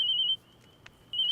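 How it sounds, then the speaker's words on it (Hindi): A telephone ringing with a bright electronic trill, two ring bursts separated by a short gap, clear and close with no talking over it. "सर मैम एक फोन आ रहा है अर्जेंट, ले लो प्लीज।"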